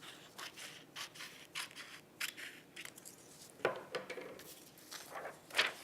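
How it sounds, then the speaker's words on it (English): Scissors trimming the top edge of a rolled sheet for a solar cooker window in a Pringles can, giving a series of short, close snips and rustles spread across the clip with small pauses between cuts. "So I'm going to trim off the top of that just a little bit."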